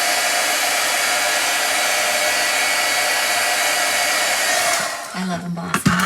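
A heat tool melts embossing powder on a stamped card, giving a loud, steady blowing whoosh that runs for several seconds before cutting out near the end, followed by a brief faint hum.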